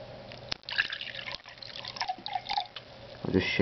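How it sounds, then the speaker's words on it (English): Monster Rehab Green Tea energy drink poured from an opened can into a glass, a brief splashing trickle with small drips and fizz, fairly close and moderately quiet. "Okay, we got to pour it into a glass now."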